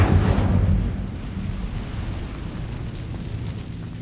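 Incendio fire spell cast in Hogwarts Legacy, a loud whooshing burst of flame at the start that fades into a low rumbling roar trailing off over several seconds.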